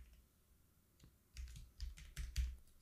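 Keystrokes on a computer keyboard entering a shortcut in After Effects: a light click near one second, then a quick irregular run of close, crisp taps over the last second and a half, with no talk.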